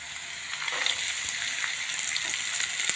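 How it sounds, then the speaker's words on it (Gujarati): Carrots, peas, red and green chillies, peanuts and capsicum frying in hot oil, a steady close crackling sizzle with small pops throughout, no voices. "તેલના અંદર સરસ મજાના ફ્રાય કરી દેવાના છે."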